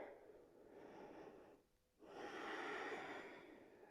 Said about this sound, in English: One more deep, full breath here.